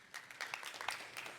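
A small group of listeners at an astronomy talk clap briefly and faintly, a thin scattering of handclaps lasting just over a second.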